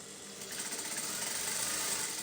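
Sewing machine hemming the lower edge of a kaftan maxi dress, running in a steady, fast mechanical chatter that holds continuous and close without pause.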